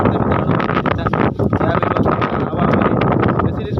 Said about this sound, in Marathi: बघू शकता हवा सुटली आहे